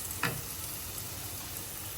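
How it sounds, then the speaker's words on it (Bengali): Onion and spice paste frying in a pan, a soft, steady close-up sizzle with a brief stirring scrape near the start and no talk. "পেঁয়াজটা মোটামুটি ভাজা হয়েছে"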